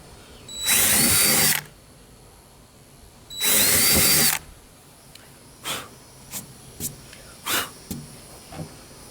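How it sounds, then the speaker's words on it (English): A power drill with a 3/16-inch bit whirs in two long bursts close by, followed by several short quick trigger pulses. "Now all I have to do is drill my holes, and I'll be using a 3/16 drill bit."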